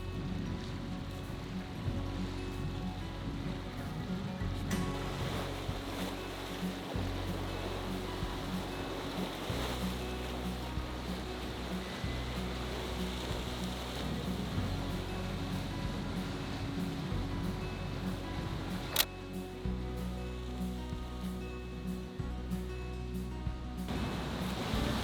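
Waves washing onto a Lake Michigan beach, a steady wide rushing wash of surf with soft repeated surges, continuous and fairly distant, no voices.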